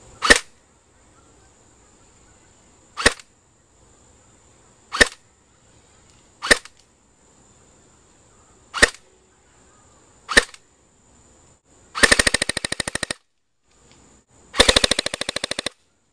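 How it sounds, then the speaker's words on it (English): A G&G GR16 blowback airsoft carbine fires BBs: six sharp single shots spaced a couple of seconds apart, then two short full-auto bursts, crisp and close with quiet gaps. "It's actually taking compressed air from the inside after each shot and moving it back and forth"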